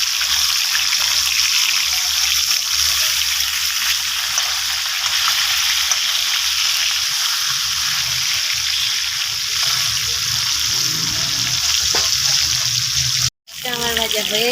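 Fish fries in a pan with a steady, bright sizzle that carries on close and loud, dropping briefly to silence before a short return near the end.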